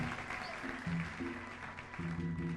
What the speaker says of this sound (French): Nous applaudissons très fort le Seigneur et sa parole.